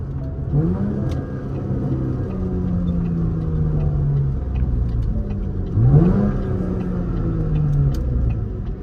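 A V6 fifth-generation Camaro with its mufflers deleted pulls in fourth gear, its loud raspy exhaust drone rising in pitch through two acceleration pulls heard from inside the car, with no talking.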